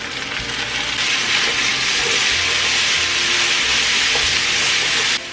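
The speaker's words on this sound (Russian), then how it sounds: "Буквально пару минут обжариваем помидоры с луком." Tomatoes and onion frying in a kazan make a loud, steady sizzle that surges partway in and holds bright and close before cutting off near the end.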